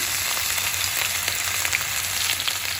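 A small cinnamon stick and a little cumin crackle and sizzle in hot oil at the start of a carrot and radish sabzi, a dense, even frying hiss heard close by with no talk.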